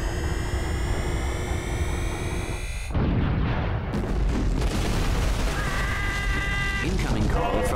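Gunfire and explosions from Ratchet and Clank: Up Your Arsenal HD, steady booming blasts and shooting layered with sci-fi tones and game music, with a sharp cut partway through and voices talking over the action.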